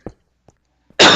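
A single short, sharp cough breaks out near the start, followed by two faint throat sounds, then a loud burst of breathy noise at the end.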